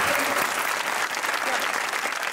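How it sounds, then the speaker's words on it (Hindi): Studio audience at a TV comedy talk show applauds warmly, a dense, loud, continuous wash of clapping throughout. "तालियां दिल की तर्जुमानी कर गए।"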